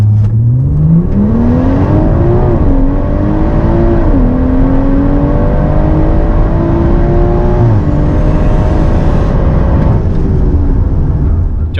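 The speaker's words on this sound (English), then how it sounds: "I use launch control." A BMW M140i launches hard off the line with launch control, its engine revving loud and steady, rising through the gears with brief dips at each shift, close and continuous throughout.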